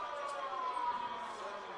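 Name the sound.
siren at high school football field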